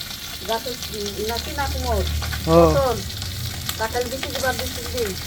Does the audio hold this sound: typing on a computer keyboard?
no